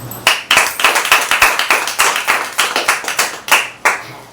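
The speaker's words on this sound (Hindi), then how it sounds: "एक जोरदार ताली बजाइए" A church congregation at a Wednesday service claps loudly in a quick, steady rhythm, with sharp, distinct hand claps close by and no talking.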